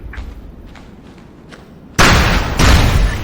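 Explosion in the video game SOCOM U.S. Navy SEALs Portable: Fireteam Bravo 3 bursts in loud and sudden after a few faint thumps, a broad roaring blast that holds and swells again with a second surge before fading slightly.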